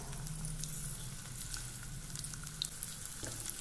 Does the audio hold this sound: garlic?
yes